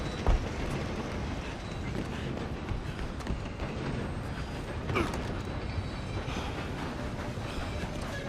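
Train rolling on rails in the Red Dead Redemption 2 game, a steady mechanical rumble with creaking and clanking carriage noises, continuous and fairly loud throughout, with a sharper metallic bump near the start and midway.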